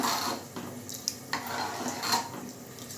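Veg biryani stirred in a cooking pot after water is added, with close metallic clinks and scrapes of a utensil against the pot over a soft watery rustle.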